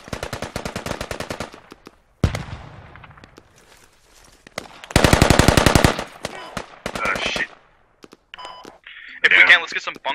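In the Squad video game, a 50-calibre machine gun fires rapid, loud bursts at a squad, with a sharp single shot and radio-like chatter between the volleys. Players talk over the fire.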